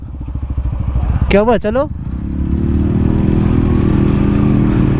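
A motorcycle engine putters steadily, then rises into a louder continuous drone as it rides off, with brief speech near the start.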